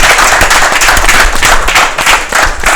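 Loud, close audience applause with distinct individual claps standing out in a dense, energetic burst that holds steady throughout.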